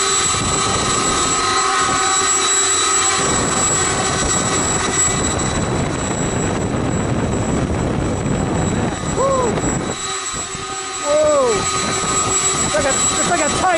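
Engines of an RC C-130 Hercules model aircraft roar at full power, a loud continuous multi-engine drone with steady tonal whine, while excited voices shout and exclaim over it.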